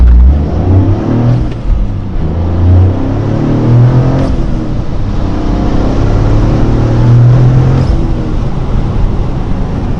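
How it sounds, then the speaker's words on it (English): A 2023 Toyota GR Corolla with a carbon fiber intake and short shifter, turbocharged, pulls hard through the gears, its loud, steady engine rumble briefly dipping at each shift across the run. "I'm just going to get into boost a little bit, let you guys know how it sounds."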